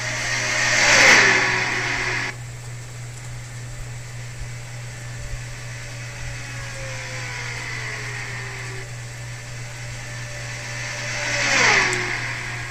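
Stock car engines roar during an ARCA race at Daytona, a loud pack sweeping past near the start, then a steady distant drone of cars circling the track, with another close pass swelling up near the end.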